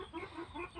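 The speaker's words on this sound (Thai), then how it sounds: "เสียงไก่" Chickens clucking in a rhythmic run of short calls, close and fairly loud, outdoors at a vegetable garden during evening watering.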